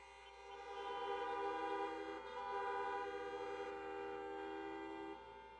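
Many car horns honking together at an outdoor drive-in campaign rally, long overlapping blasts that swell and hold for several seconds.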